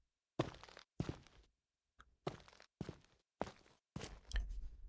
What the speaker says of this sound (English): we utilize the user sample import function to put some footsteps in here